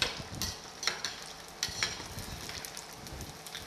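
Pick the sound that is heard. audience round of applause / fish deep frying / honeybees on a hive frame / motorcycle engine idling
fish deep frying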